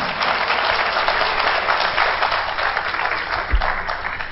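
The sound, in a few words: audience applause at a play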